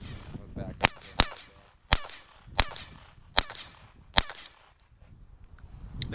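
Six sharp, cracking gunshots from a .22 pistol styled like a 1911, fired at a steady, slightly uneven pace, loud and close with short outdoor echoes and some low background noise between shots.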